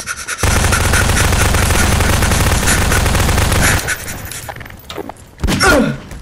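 Loud, sustained gunfire from a shotgun in Garry's Mod sandbox play, a continuous barrage of close shots that drops away into quieter clatter before one final sharp blast.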